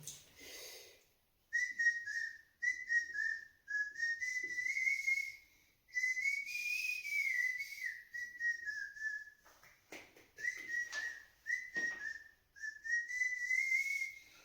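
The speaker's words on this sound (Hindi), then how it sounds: "उस गाने को मैं सीटी पे गुनगुनाने लगा" A man whistles a Hindi song, carrying the melody clearly and fairly close in several phrases separated by short pauses, with no talking.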